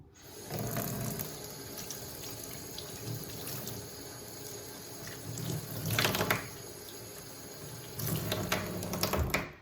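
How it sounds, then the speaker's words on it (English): Cold tap water runs steadily into a sink as a reusable cloth pad is rinsed by hand, with louder bursts of splashing and rubbing as the cloth is worked under the stream, close up and without speech. "rinse it with cold water until the water runs clear"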